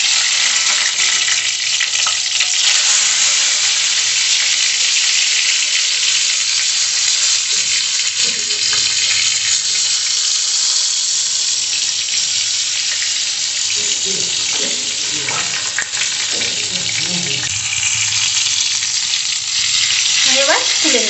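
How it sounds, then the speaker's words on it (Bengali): Eggplant slices frying in hot oil in a pan, a loud steady sizzle running throughout with occasional stirring and scraping clatter near the end. "আমি এবার বেগুনগুলো ভেজে নিচ্ছি।"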